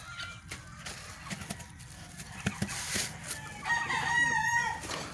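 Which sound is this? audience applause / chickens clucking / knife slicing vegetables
chickens clucking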